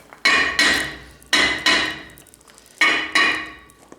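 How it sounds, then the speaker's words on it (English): Six sharp metallic ball peen hammer blows on an old first-generation Ram truck axle, struck in pairs with short pauses between, loud and ringing, no talk. "I got my ball peen hammer"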